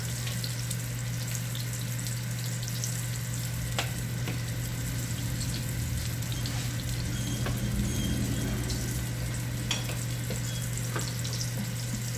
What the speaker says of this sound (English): I'm gonna throw some buttery garlic and herb